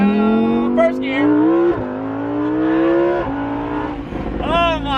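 A 2020 Lamborghini Huracan EVO accelerates hard in first gear, its engine note climbing loudly through several sharp upshifts, with excited voices cutting in near the end.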